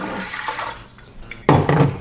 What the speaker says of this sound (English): I'm going to dump 2 of these into my canner because the canner needs 2 quarts of hot water to start